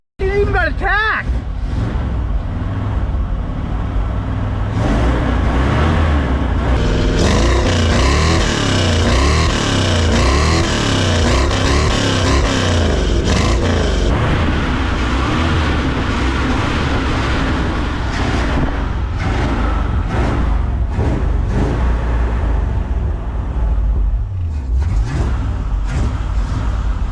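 A 1978 Ford F-350 engine revs hard close by, its pitch sweeping up and down through repeated throttle blips before settling, with voices talking over the roar.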